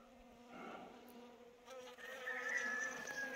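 A dense colony of Korean native honeybees fills a heavy hive box, their continuous buzzing drone swelling louder and higher in the second half, close by with no speech.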